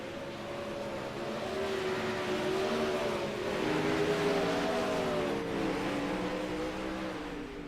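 Sprint race cars run slowly down a straightaway after a heat race. Their engines give a steady, moderately loud droning hum that rises and falls slightly, with no voices.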